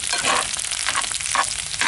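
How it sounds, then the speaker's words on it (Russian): Fried meat and pasta sizzle and crackle in a pan on a stove, loud and close with continuous bright spitting and occasional stirring surges, with no talking. "и поджарил на печке. Вон, хрустящие получились у меня."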